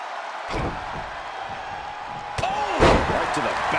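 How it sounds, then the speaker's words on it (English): Capacity crowd roaring at a wrestling ladder match, a dense, loud wall of cheering throughout with sharp impacts near the start and middle and a swell toward the end. "The sound of this crowd is deafening"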